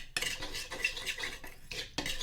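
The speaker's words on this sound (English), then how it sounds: "And then you need to mix those together, trying to get as many lumps out" A utensil stirs and scrapes briskly around a bowl, working lumps out of a mixture in repeated bursts of clinking and scraping that continue without pause, close and fairly loud with no talking.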